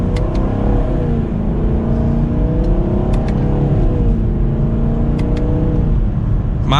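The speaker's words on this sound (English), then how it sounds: "give it another acceleration so you can hear what this V8 sounds like" A 2023 Chevrolet Camaro 2SS 1LE's V8 builds loudly and steadily under acceleration, its engine note climbing and falling in sweeping tones from start to finish, heard from inside the car.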